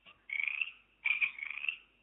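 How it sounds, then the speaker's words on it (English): A frog croaks twice in close succession, each a rasping, ratcheting call lasting about three-quarters of a second, fairly faint and alone with no voices. "now I hear a frog"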